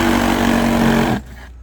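A power saw whines loudly, cutting through wood, then stops abruptly near the end, leaving a brief low run-down.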